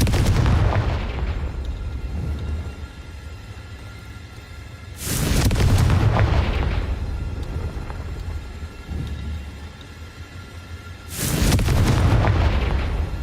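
Confringo blasting-spell explosions go off in Hogwarts Legacy, three heavy booming blasts spaced several seconds apart, each followed by a long rumbling decay.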